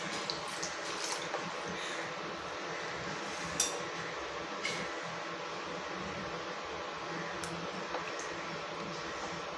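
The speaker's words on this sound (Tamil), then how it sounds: "தேவையான அளவு தண்ணி கொஞ்சம் ஊற்றிக்கலாம்" Water being poured into a cooking pot while making a taro root (seppankizhangu) tamarind kuzhambu, a soft, steady pouring hiss with a few faint clinks.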